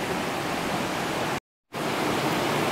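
River water rushes in a steady, dense roar at a spot near a wooden bridge in the Trabzon area of northern Turkey, briefly cut off mid-clip before resuming.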